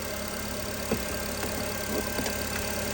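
A Nissan Sentra 1.8 L engine runs steadily at close range with a few slight rises in revs. There is no talk.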